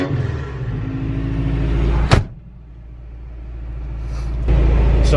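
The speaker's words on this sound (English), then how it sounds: "Sounds like a mini truck." A Toyota mini truck fitted with headers idles with a low, throbbing rumble, broken by a sharp door-like thud, then goes quieter before the engine's steady drone swells back up.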